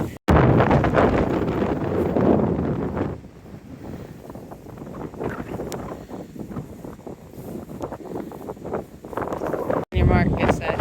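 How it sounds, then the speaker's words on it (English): Strong wind buffets the microphone on a steep, muddy hillside during a hike, a loud continuous roar rising and falling in gusts for the whole stretch, with a brief dropout near the end. "It's very windy."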